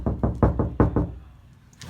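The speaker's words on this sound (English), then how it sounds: "So let's knock on the driver door." Knuckles rap an untreated car driver door with no sound-deadening mat, giving six quick, booming, hollow knocks close up in an uneven rhythm, then quiet.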